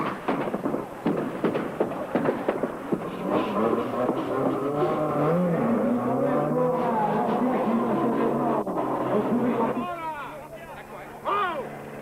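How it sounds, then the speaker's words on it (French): A Lancia rally car's engine sputtering and popping unevenly at the start line of the Monte-Carlo Rally, heard beneath steady commentary, with a few sharp revs near the end. "Sur la ligne à son tour, en ratatouillant comme ce n'est pas possible, à Lancia, la petite dernière"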